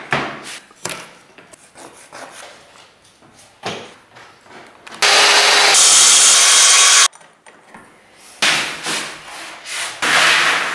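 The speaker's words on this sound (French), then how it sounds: "Découpe ensuite le plateau dans la longueur." A kitchen worktop is sawn lengthwise in a DIY workshop: quieter rasping strokes, then a loud continuous two-second burst of power cutting, followed by more short sawing strokes.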